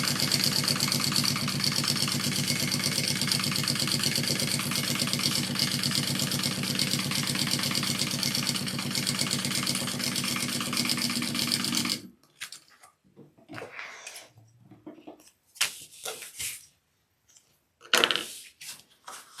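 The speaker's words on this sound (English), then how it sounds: "So we're gonna sew along this edge." A sewing machine stitches along a handbag fabric edge, running as a steady close mechanical whir for about twelve seconds, then stopping, followed by quiet intermittent handling noises.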